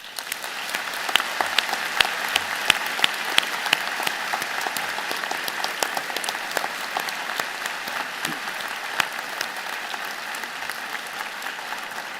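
A graduation convocation audience at the Rotman School of Management gives a long, vigorous round of applause, a full and even wash of many hands that carries on steadily throughout.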